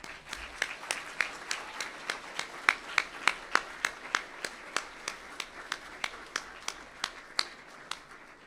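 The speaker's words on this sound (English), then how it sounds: "And I'd like to give them a very big round of applause." Applause for the staff at a schools cattle competition, a thin, sparse scattering of separate claps at a fairly even rhythm, faint and without voices.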